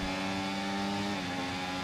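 Formula 1 race cars running wheel to wheel in F1 24, a steady, droning engine whine with layered tonal harmonics, close and unbroken over a brief moment.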